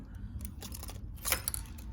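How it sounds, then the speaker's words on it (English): Keys for a 2017 MV Agusta F3 800 motorbike jangle in a few quick metallic bursts, near and fairly quiet, with faint rustling handling noise around them and no talk. "It's got 2 keys with it, you can see there."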